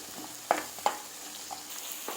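Paneer mutter curry with cashews being stirred in a frying pan, a few sharp spoon scrapes and clacks over a faint, steady sizzle, close by with no talking.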